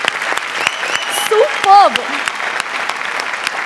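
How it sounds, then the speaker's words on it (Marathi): A studio audience at a Marathi comedy show claps steadily and loudly throughout, while someone speaks a word over it and a brief melodic voice sound rises in the middle. "जोरदार टाळ्या झाल्याच पाहिजेत"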